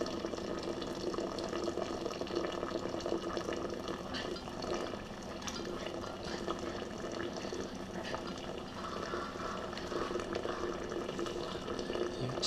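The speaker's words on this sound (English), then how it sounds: "you just release the pressure, start letting some of the juice come out." Apple juice pouring out of a pressure canner spout into a glass pitcher after the pressure is released, a continuous close trickling and splashing flow, fairly steady throughout with faint background sounds.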